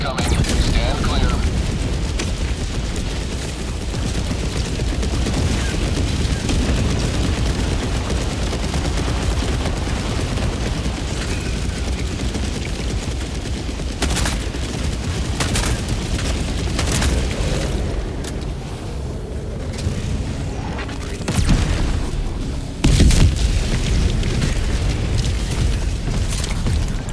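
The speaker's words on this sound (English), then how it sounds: "Orbital barrage incoming. Stand clear." Orbital barrage strikes in the video game Helldivers 2 pound continuously, a dense rumbling wall of booms and blasts with sharper bursts late on, while a voice speaks over the din.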